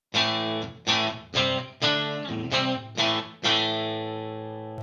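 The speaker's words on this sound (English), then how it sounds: "I want my rhythm to be a little bit more crunchy than my clean" An electric guitar runs through a crunchy Headrush Gigboard amp model, strumming seven distinct chords in a steady rhythm before the last one rings out and decays, close and clear with no talking.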